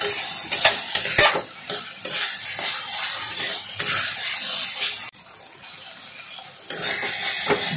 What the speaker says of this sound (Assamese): মছলাখিনি সৈতেও মই আলু 3 মিনিট ভাজি ল'ম।